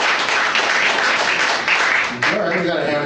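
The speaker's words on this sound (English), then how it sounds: "Clap if you're from the Middle East." An audience at a comedy show claps, a dense, loud wash of applause that runs steadily, dips briefly, then surges again, with crowd noise and voices mixed in.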